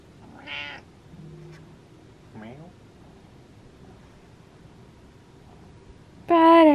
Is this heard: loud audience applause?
no